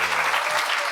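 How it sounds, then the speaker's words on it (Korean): At an Easter recitation contest of the Westminster Confession of Faith, an audience claps for a contestant, a brief, loud, full burst of applause lasting under a second. "박수"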